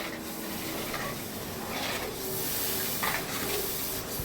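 Masala in a pan with tamarind water poured in for kuzhambu, giving a steady bubbling sizzle and hiss with occasional stirring scrapes, close and moderately loud without any voices.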